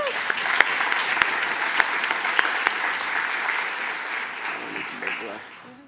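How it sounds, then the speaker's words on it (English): Audience applause for Ms. Jessie at a lunch program, a steady dense wash of many hands clapping that holds for several seconds and tapers off toward the end, with some crowd voices mixed in. "Please give her another round of applause."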